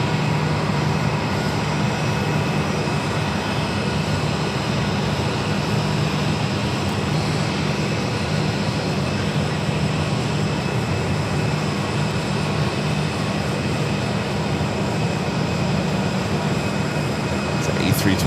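An Airbus A321 airliner taxiing toward its gate at Phoenix airport, a steady broadband engine rumble and whine that holds evenly throughout, moderately loud and continuous with no pauses.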